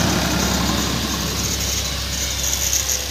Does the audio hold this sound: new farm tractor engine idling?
yes